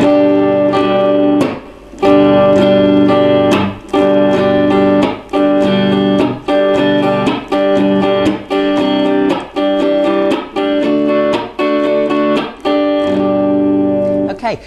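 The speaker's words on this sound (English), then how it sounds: "the chop is quite percussive" An acoustic guitar strummed in a steady repeating pattern, with short muted percussive chops breaking up the ringing chords, loud and close.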